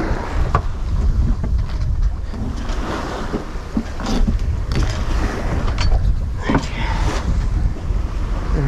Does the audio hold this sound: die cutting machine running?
no